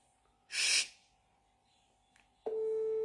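A phone line tone for an outgoing audio call starts after a brief breathy noise and a pause, then holds as a steady, clear, moderately loud electronic tone.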